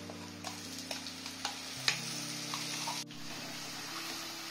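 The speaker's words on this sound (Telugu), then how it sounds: "ఈ ఆనియన్ పేస్ట్ అంతా వేగిపోతుందండి" A paste of ground onion and jaggery fries gently in a pan for bitter gourd curry. It makes a soft, low sizzle with scattered spatula scrapes and taps, heard fairly faintly over a steady low hum.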